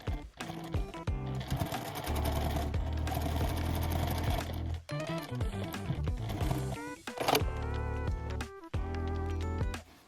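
A sewing machine stitches fabric for a tote bag in fast bursts, pausing briefly between runs, close by with a mechanical whirring rattle.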